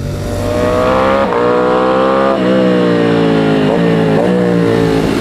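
A Ducati Panigale V4 SP2 with its road-going Desmosedici Stradale V4 engine of 1103 cc revs hard and loud, climbing through several sharp upshifts with brief dips between pulls, a harsh, close, continuous engine roar with no talk.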